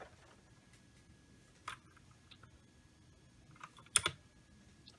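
E Elemend Z-88 104-key keyboard on a laptop setup, sparse key presses: a single click, then a quick cluster of several louder clacks, close and crisp over quiet room noise.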